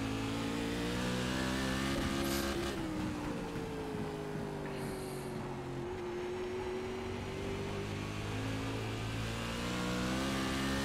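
A Silver Crown race car engine in iRacing at Myrtle Beach Speedway drones loudly and steadily, its pitch dipping and climbing again as the car works through a corner, with no talking.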